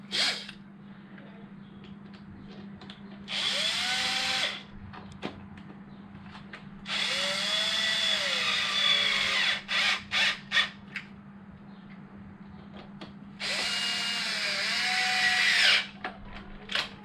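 A cordless drill drives bolts on a Losi DBXL 32cc RC car, whining up in three long bursts with a few short triggers between them, close and loud over a low steady hum.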